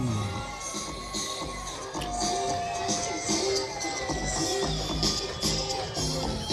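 Crowd clapping and cheering fills a softball award ceremony after a South African pitcher is named, a sustained, fairly close wash of applause with scattered shouts and no pauses.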